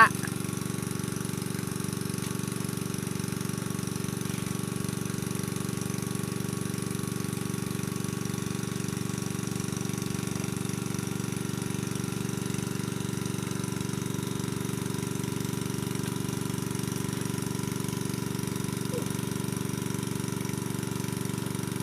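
Engine-driven water pump running steadily outdoors while draining a pond to catch fish, a loud continuous mechanical drone with a rapid low chugging pulse, unchanging throughout.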